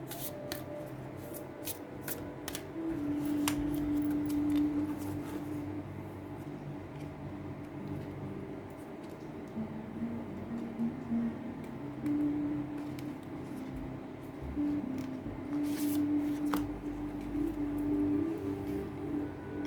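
Moonology oracle cards are shuffled and drawn, giving soft, continuous rubbing and riffling card noise close by over a low hum, with occasional light taps and flicks.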